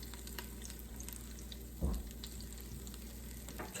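Olive oil heating in an Instant Pot for steak bites, a faint even sizzle with one brief thump partway through, quiet and with no voices.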